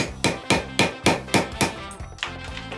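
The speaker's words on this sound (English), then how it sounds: "we're just gonna go ahead and chisel this stuff away" Chiseling away material along the edge of a tile floor, a run of about ten sharp hammer strikes at a quick regular pace, close and loud, the last few a little softer.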